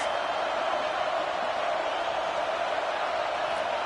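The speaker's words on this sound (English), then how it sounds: "Listen to this crowd just shaking the girders of this place, trying to help their defense." Football stadium crowd roaring steadily to back the home defense at a Washington versus SMU game, a dense continuous wall of noise held at even loudness throughout with no clear voices standing out.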